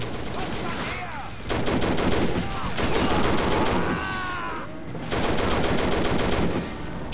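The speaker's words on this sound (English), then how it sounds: "Oh, we just got this machine gun now." Machine gun fire in the World War II game Faces of War on Omaha Beach, loud dense bursts of automatic fire with a steady battle din between them and no speech.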